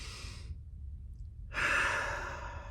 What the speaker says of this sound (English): you're taking a deep breath